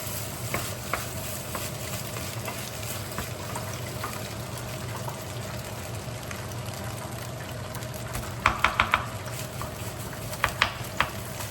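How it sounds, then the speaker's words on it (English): Fried rice sizzling steadily in a hot pan for a family Dungeness crab dinner, a constant frying hiss with scattered scrapes and a few sharp clicks of a utensil stirring near the end. "Just gonna cook the fried rice until they become separated"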